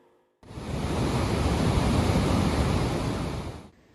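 Heavy sea swell rolls onto the shore at Grand-Rivière during stormy weather with strong wind, a loud, broad roaring surge that builds and holds for a few seconds, with no talk over it.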